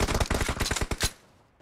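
Rapid automatic gunfire in a video game, a burst of about a dozen sharp, loud shots in fast rhythm lasting about a second, then a short fading tail.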